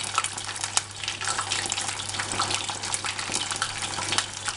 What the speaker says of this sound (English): splash in the batter into the deep fryer, about 5 minutes till it's nice and golden